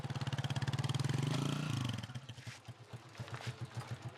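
A motorcycle used for moto-taxi training in a village square chugs close by, a loud, rapidly pulsing engine that rises briefly, then drops into a slower, uneven idle with clattering beats.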